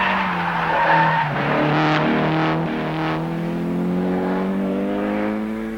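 A 1970s Opel rally car climbs a spectacular mountain pass at dawn, its engine note rising and falling through gear changes, loud and close with tyres scrabbling on the surface as it passes.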